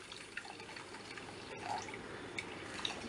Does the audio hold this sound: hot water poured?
yes